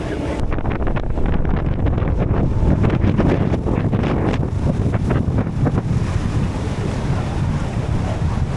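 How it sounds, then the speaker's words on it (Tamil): Strong evening wind gusts past a sea cave on a New Zealand cruise, a loud constant roar buffeting the microphone, with water and surf rushing beneath it throughout. "செம்ம காற்று அடிக்குதுங்க ஈவினிங் ஆக"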